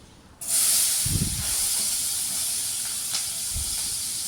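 Chopped onions drop into hot frying butter and a loud, steady sizzle erupts and keeps going, with a couple of soft thumps from the pan along the way.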